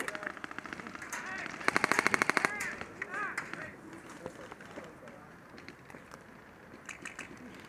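Airsoft guns fire rapid bursts of sharp cracks during an outdoor skirmish, loudest in a dense volley near the middle, with a player talking quietly.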